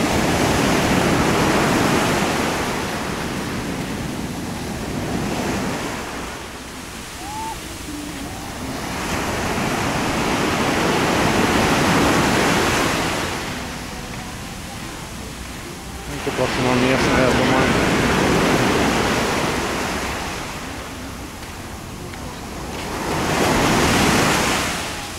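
Stormy sea waves crash onto a beach in Alanya, Turkey, on an overcast day, loud roaring surf rising and falling in three or four long surges with a constant wind-like wash between them.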